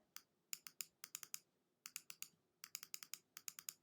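A computer mouse clicks in rapid clusters during photo retouching of a newborn portrait, sharp close taps arriving in bursts with brief pauses between.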